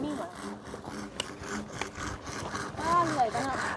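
A hand saw cuts wood on a house-building site, giving a steady rasping stroke rhythm at close range while voices talk throughout.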